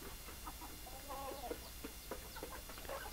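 Large Basilan breeder rooster of about four kilos clucking softly at a farm, faint short clucks scattered over a steady background hum.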